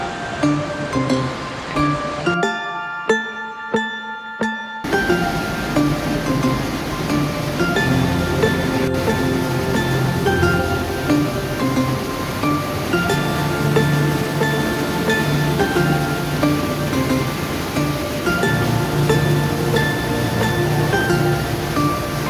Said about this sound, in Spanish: ya hemos llegado a la cascada del Gran Cañón.